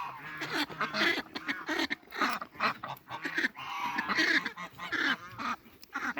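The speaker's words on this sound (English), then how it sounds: "I will just spend more time out here with my ducks and geese, enjoying the sounds that they make" Greylag geese on a farm honk in loud, close, overlapping calls, repeated bursts from several birds with short pauses, with ducks nearby.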